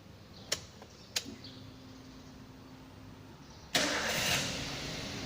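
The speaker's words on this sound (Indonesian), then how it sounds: "Setelah alat terpasang, nyalakan engine." A car engine cranks and catches after two sharp clicks, then settles into a steady idle, heard close with no voices, during a fuel-injection scanner check.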